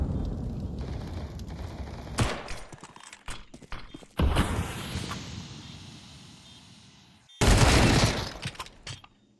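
Rapid gunfire bursts ring out during a Counter-Strike match round at a bomb site, with sharp loud volleys separated by quieter stretches of distant shooting and game ambience.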